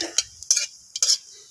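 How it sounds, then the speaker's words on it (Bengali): A spoon scrapes and stirs a dried red chili and five-spice tempering in mustard oil in a pan, making three quick, crisp scraping bursts separated by near silence. "তো ফোড়নটাকে একটু নাড়াচাড়া করে নিচ্ছি।"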